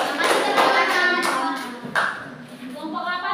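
Classroom of sixth-grade children clapping together for a group, a loud scattered patter of hands with a few sharper claps, fading near the middle before picking up again, with a voice faintly mixed in.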